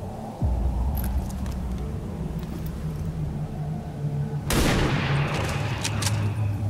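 Gunfire in the video game XCOM 2 against a zombie, a sudden loud burst of shots cutting through steady game background noise and a low ambient rumble.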